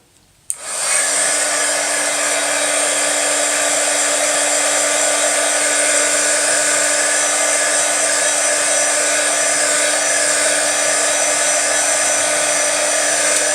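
A handheld dryer switches on with a click and blows a loud, steady, even whoosh to dry ink on a handmade card, holding continuously with no talk.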